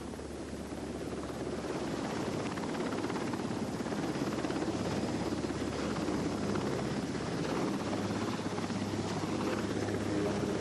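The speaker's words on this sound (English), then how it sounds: "Helicopters are also used to rescue pilots if their planes crash at sea." Helicopter such as a Sikorsky SH-3 Sea King over the sea, a faint steady rotor drone with airy wash, continuous and unbroken throughout.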